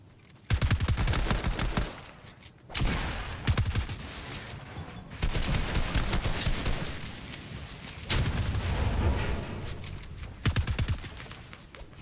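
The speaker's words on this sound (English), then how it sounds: "Using those rapid SMG fires to take some walls and some third-party shots" Rapid SMG fire from a competitive Fortnite trios finals match: loud, dense bursts of automatic shots in several long stretches separated by brief pauses, with no talk over them.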